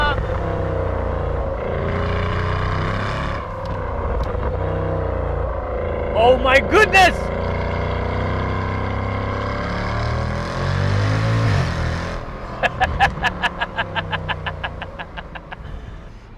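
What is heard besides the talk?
Mercedes-Benz CL63 AMG engine driven hard near wall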